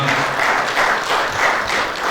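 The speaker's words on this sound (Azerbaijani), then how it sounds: "Almaz xanım Yaşarı ürəkdən alqışlayaq" An audience applauds at a commemorative event honoring a fallen captain. The clapping is dense, steady and close, lasting about two seconds.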